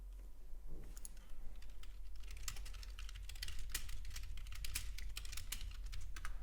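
Keys clatter on a computer keyboard in quick, uneven bursts as someone types a chat message, close and fairly soft over a low steady hum.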